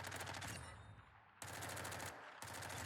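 Rapid automatic gunfire from Warzone, a multiplayer shooter video game, in long loud sustained bursts with only brief gaps between them.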